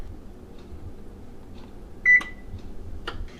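A kitchen oven gives a single short electronic beep as it is set to preheat to 450, a clear tone amid quiet room noise, followed by faint clicks.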